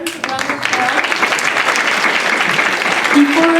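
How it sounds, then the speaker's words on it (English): Audience applause at a university event on building U.S.–Japan university ties, a dense steady burst of clapping from a roomful of people that fills the whole moment, loud and close, with a voice briefly heard near the end. "We have another round of applause."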